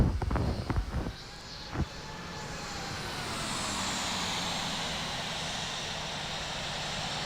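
A Boeing 737-700 lands in the Infinite Flight game, with a few thumps early on, then a steady, rising engine and rolling drone.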